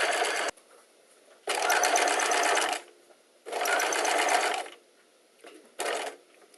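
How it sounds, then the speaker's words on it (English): A sewing machine stitches along the folded edge of a fabric collar in three longer bursts and one short burst, with quiet pauses between the close, rapid whirs. "we're going to start the sewing by sewing just along that folded edge that encases the seam"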